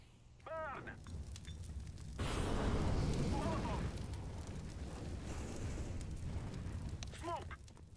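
A fire grenade burns in CS:GO with a sustained roaring, crackling whoosh that flares up loudly and then holds steady, while brief chirping voice-like sweeps come and go at either end.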